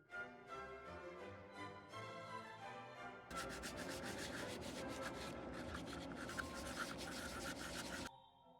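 Sanding wood filler on a figure built with a 3D pen, a steady close-up rubbing and scratching that starts softer and grows louder and denser partway through, then cuts off near the end.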